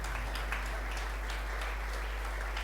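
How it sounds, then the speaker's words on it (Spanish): A church congregation applauds during a Spanish-language service, a steady, even patter of many hands over a low constant hum, holding level for under three seconds. "Denle un fuerte aplauso al Señor."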